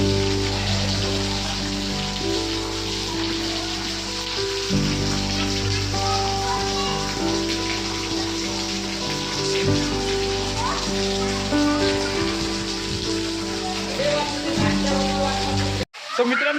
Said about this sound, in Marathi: भयानक पाऊस सुरू आहे आमच्या गावातनी